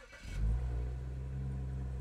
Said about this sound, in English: So if I go and try to start the car,